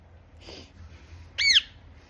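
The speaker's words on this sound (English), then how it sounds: "I love my bird friends." Pet birds in a home are grooming each other. A soft chirp is followed by a single sharp, close squawk, against a quiet background.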